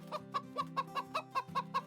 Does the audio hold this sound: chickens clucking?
yes